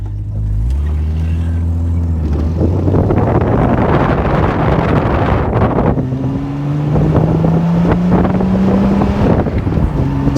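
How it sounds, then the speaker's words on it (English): A 1974 Triumph TR6 British roadster engine revs hard while driving, the exhaust note rising and climbing steadily through the gears with strong wind rush over a loud, continuous drone. "Sounds great as it revs out the car."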